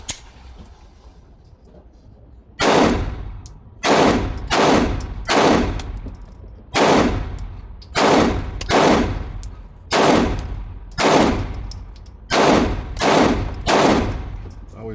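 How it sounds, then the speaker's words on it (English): Sig P365 XL pistol emptying a 12-round magazine outdoors at about 7 or 8 yards: loud, close, sharp reports fired one at a time at a steady, unhurried pace after a short quiet lead-in. "we're going to put a mag through the P365 XL and just make sure it's running"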